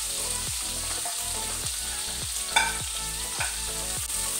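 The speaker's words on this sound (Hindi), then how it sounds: "अब मैं इसमें ऐड करूंगी प्याज, हरी मिर्च और टमाटर। इनको हम 1 से 2 मिनट तक सॉटे करेंगे।" Onion, green chilli and tomato sauté in a hot pan, a steady sizzle broken by repeated stirring scrapes every second or so, close and fairly loud with no talk.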